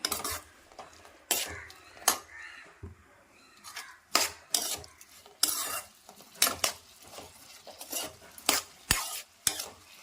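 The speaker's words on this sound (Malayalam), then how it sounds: "നന്നായിട്ട് എല്ലാ സ്ഥലത്തും ചെല്ല രീതിയിൽ ഇളക്കി കൊടുക്കണം" A utensil stirs and scrapes through prawn pickle ingredients frying in sesame oil in a pan, giving sharp irregular metallic clinks and scrapes over a faint background sizzle, close and fairly quiet.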